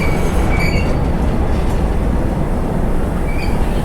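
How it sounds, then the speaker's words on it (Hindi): An American-made diesel locomotive hauls the Vaishali Superfast Express passenger train, heard as a loud, close, continuous rolling roar with brief high wheel squeals and no voices. "देखिए one of the most powerful diesel engine."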